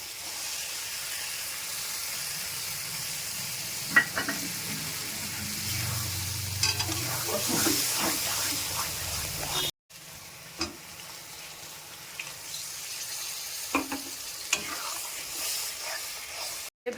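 Ground spinach paste fries in hot oil for palak paneer, giving a loud continuous sizzle and hiss with intermittent stirring scrapes and knocks and one short break.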